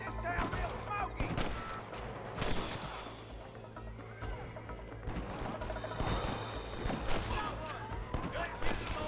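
Gunfire in Red Dead Redemption as rustlers are shot, repeated sharp cracks and rapid volleys in bursts across the clip, mixed with game ambience and a droning undertone, moderately close.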